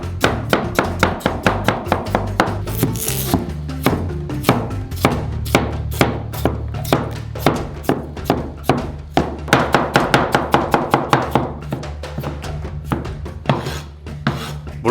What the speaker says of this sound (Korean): 깨끗해진 감자를 조각으로 자르고